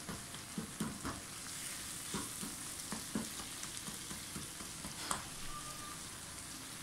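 Finely chopped tomatoes and potatoes frying in a pan make a steady, moderately quiet sizzle, broken by occasional stirring scrapes and small pops.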